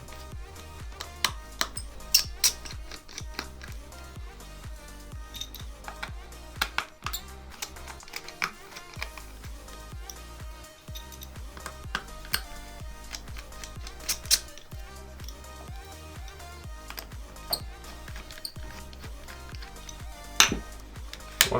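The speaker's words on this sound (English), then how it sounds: "Use the Phillips plus screwdriver to remove the screws." A small Phillips screwdriver backs screws out of Beats Studio 3 wireless headphones, making faint, close, irregular clicks and light ticking taps that continue steadily throughout.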